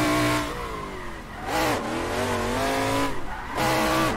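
Corvette drifting in the Assetto Corsa racing game, its engine revving loudly with rising and falling pitch through throttle blips while tires squeal and skid in long slides, alone without talk.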